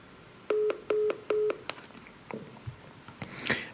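Telephone keypad tones dial out to reconnect a dropped radio-show caller: three evenly spaced DTMF beeps, followed by faint clicks and handset handling noise.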